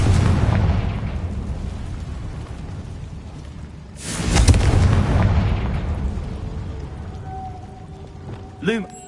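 A Confringo spell blast in Hogwarts Legacy booms loudly once, rumbling amid a dense, noisy game soundscape, followed by a short whooshing magical flourish near the end.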